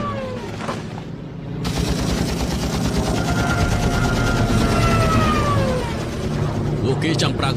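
Heavy gunfire aimed at aircraft in a war movie, a dense sustained barrage of shots and booms with whining tones running through it, loud and continuous for most of the stretch.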